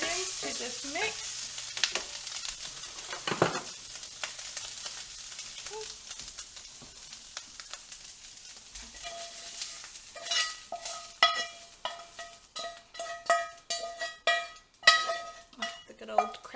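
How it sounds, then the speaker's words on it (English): Meat and onions go into a pot of chili, setting off a soft sizzle, and then a spoon stirs them with repeated sharp scrapes and clinks against the pot. A voice talks quietly at the start. "now I'm just going to add my meat and my onions to this mix"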